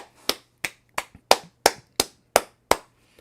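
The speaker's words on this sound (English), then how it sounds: "Clap it up for Dave" Eight sharp, evenly spaced claps sound one by one, each crisp and close with a quick decay, applause for a guest with no voices.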